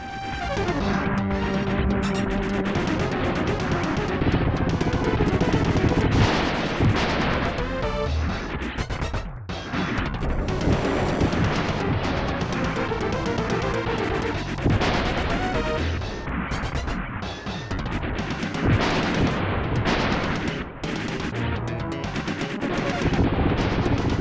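Rapid, continuous arcade-style gunfire at a boss's engine in the game Cybernator, with repeated blasts and crashing explosions, loud and dense throughout, over a busy electronic soundtrack.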